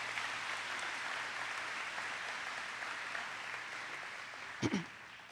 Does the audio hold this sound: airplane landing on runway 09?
no